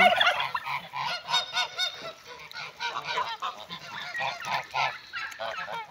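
A flock of geese honking continuously, many overlapping calls in a busy, fairly close chorus.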